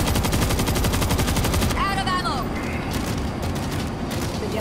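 Loud, rapid machine gun fire in the World War Z game, a steady rattling stream of shots that breaks off partway, followed by scattered bursts and some background game noise.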